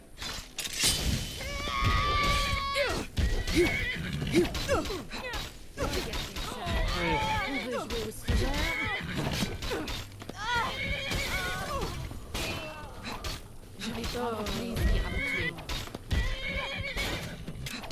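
Repeated horse whinnies and neighs with hoof clip-clops and crashing game effects in Skyrim, mixed with someone talking throughout.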